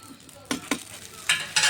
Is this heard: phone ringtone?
no